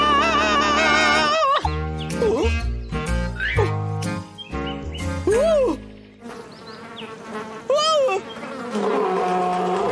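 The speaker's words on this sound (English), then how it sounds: "That logger Vic startled every bee within 100 yards of this place" Cartoon bees buzzing in a swarm, bright wavering drones that rise and fall in pitch over a busy score of music and sound effects, loud and close.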